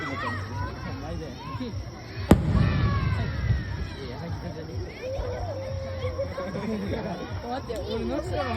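Local fireworks display outdoors, with a sharp bang followed by crackling bursts and a steady hum of crowd chatter and voices throughout.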